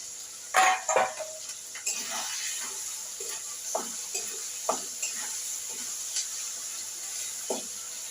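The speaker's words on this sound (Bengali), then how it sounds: "আমি সব মশলাই দিয়ে মশলাটা ভালো করে ভাজবো।" Spices for aloo dum frying in a pan, including cumin and ginger paste, with a soft steady sizzle broken by several distinct scraping stirs of a spatula, louder clatters near the start.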